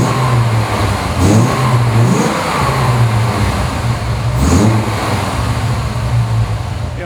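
A 1998 Dodge Viper RT/10 roars loudly from inside the car on a test drive, its engine droning steadily and rising twice in strong revs as it accelerates, with no talk.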